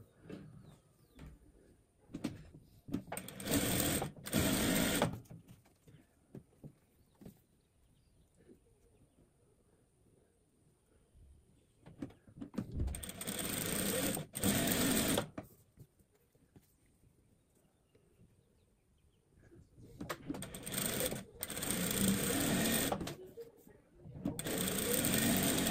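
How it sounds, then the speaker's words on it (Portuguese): Sewing machine stitching seams on fabric squares, running in three separate bursts of rapid mechanical stitching, close and fairly loud, with quiet pauses between them. "Vamos passar aqui uma costura de um lado e uma costura do outro."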